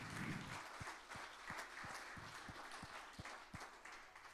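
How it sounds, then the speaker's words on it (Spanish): Church congregation at a general worship service claps in a slow, steady rhythm, soft and somewhat distant, with a low murmur of the hall underneath. "denle una ofrenda de palmas al Rey"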